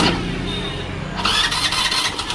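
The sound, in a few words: Hero Maestro scooter engine starting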